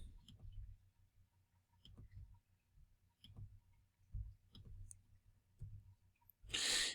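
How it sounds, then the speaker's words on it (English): Cards from the Lord of the Rings card game are shuffled by hand, with soft, regular clicking taps roughly every half second and then a louder, brief flurry at the end. "I'll shuffle again."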